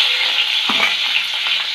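Onion, carrot and capsicum fry in two spoons of oil in a kadhai, a loud, steady hiss with a brief stir-clatter partway through, no talking.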